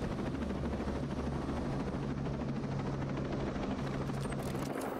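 A helicopter flies in the game Ghost Recon Breakpoint, a close, continuous rotor thrum and engine whine sustained evenly across the whole stretch without voices.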